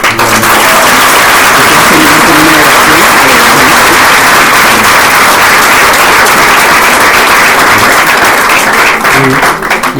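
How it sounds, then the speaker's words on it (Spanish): Dense, sustained applause from an audience at an evening interreligious dialogue in a university parish, loud and continuous throughout with no pauses. "de nuevo un aplauso, por favor."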